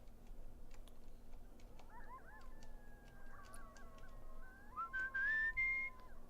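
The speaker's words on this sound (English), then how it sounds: "Maybe I'll whistle." A character whistles in Where the Water Tastes like Wine, a wavering, sliding tune that grows into longer, brighter held notes over a quiet background of faint ticks and low hum.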